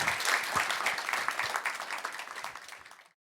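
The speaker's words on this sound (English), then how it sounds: "And again, another warm round of applause for Joseph, please." Applause from the audience at a humanist society talk, a warm round of clapping that starts full and gradually fades away to silence over three seconds.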